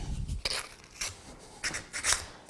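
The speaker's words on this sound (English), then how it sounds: "take a little sandpaper" Sandpaper rubbing the rough edges of a homemade food smoker, a series of short rasping scrapes in bursts, fairly close and fairly quiet, with no voices.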